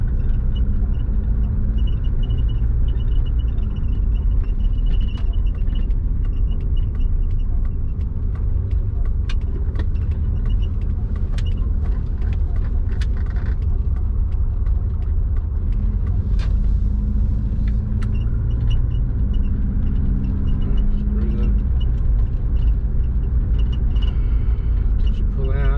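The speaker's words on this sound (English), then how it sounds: "Could already hear the turbo then." Subaru with a compound turbo setup under boost, heard from inside the car as a steady loud engine rumble and drone with turbo whine through the run, no talking.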